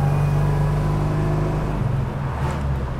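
A 1961 Pontiac Tempest with a four-cylinder engine and rear transaxle pulls steadily under acceleration while driving, a close, continuous droning engine note with rising harmonics and no talk.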